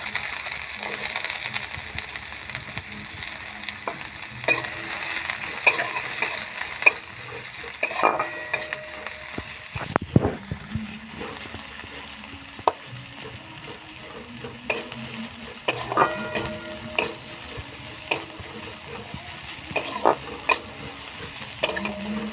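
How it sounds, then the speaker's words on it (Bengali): Chopped onions frying in a little oil in a pan for chicken soup, a continuous crackling sizzle punctuated by stirring clinks and scrapes, close and alone without talk. "পেঁয়াজগুলো বাদামি বাদামি করে ভাজবো আমি"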